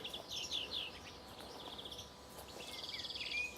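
Small birds chirp in short, fairly faint bursts around a villa garden with palms and a pool, over a soft, steady outdoor background with no voices.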